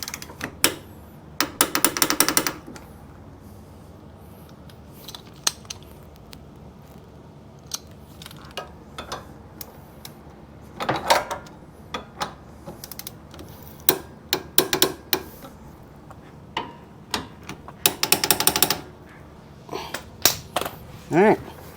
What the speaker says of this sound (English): Now I'm gonna go ahead and bust out the torque wrench and get everything torqued.